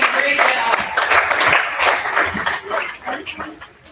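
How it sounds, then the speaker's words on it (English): Crowd applause for the Clover kids at a 4-H pig show, a dense burst of clapping that tapers off over a few seconds, with voices and a dog bark in the background. "let's give our Clover kids a big round of applause"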